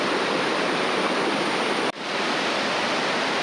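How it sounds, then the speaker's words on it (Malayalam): The Aruvikuzhi waterfall roars steadily in a dense, broadband wash of rushing water, full with water, loud and close, with a brief dip in the noise midway. "ഈ വെള്ളച്ചാട്ടത്തിൻ്റെ ആ ഒരു സൗണ്ട്"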